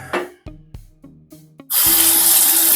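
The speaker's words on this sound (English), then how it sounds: "Let's rinse the hand here." Tap water gushes into a sink while hands are rinsed during a shave, after a few short knocks and clatters; the stream starts abruptly and runs loud and steady to the end.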